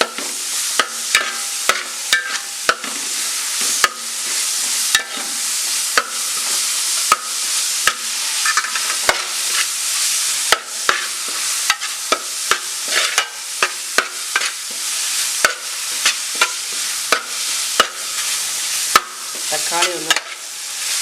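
Chopped tomatoes fry with onion, ginger, garlic and chilli for a Malabar mutton curry, giving a steady loud sizzle broken by frequent sharp spoon scrapes and clacks against the pan throughout.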